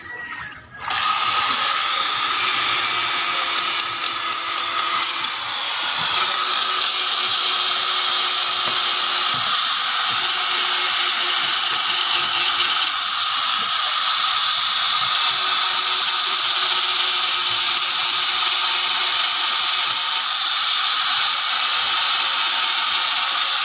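A steady high-pitched motor whine runs continuously after a brief start, loud and unbroken, like a blender spinning at full speed.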